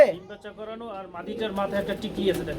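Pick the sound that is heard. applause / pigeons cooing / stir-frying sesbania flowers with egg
pigeons cooing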